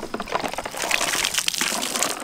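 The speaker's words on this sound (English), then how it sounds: "put your hand on the lid and then just pour it over." Water pours and sloshes out of a minnow trap tipped over with a hand on the lid, a close splashing trickle lasting a couple of seconds, with no talk.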